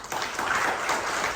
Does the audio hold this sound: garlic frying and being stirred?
no